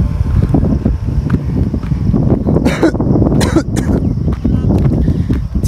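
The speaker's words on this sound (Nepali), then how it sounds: "चिसो चिसो हुन्छ हाम्रो गाउँमा हावा चल्छ मजाले" Wind buffets a microphone outdoors in a hill village, with loud, gusty low rumbling throughout and a few sharp noises in between.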